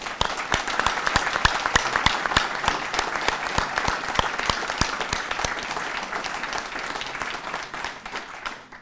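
Audience applause for award winners at an AIA Vermont 75th anniversary celebration, a steady wash of many hands clapping with some sharp individual claps standing out, continuing for several seconds and tapering slightly at the end.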